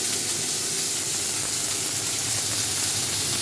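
Beef sears in a pan of hot rapeseed oil, giving a steady, close, unbroken hiss and sizzle that holds at an even level throughout.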